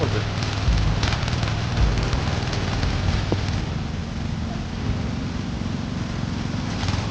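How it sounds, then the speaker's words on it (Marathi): Rain falls steadily in a rural Maharashtra farm setting, a dense continuous hiss close by, with voices faintly underneath. "पाऊस"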